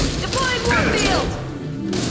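A warp field biotic power unleashed during combat in the video game Mass Effect 2, a dense whooshing, crackling burst amid constant game sound effects.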